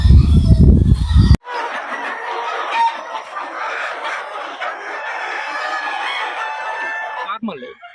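A crowd of about two thousand country chickens clucking steadily nearby on a poultry farm, with a rooster crowing among them, after a short burst of loud rough noise at the start.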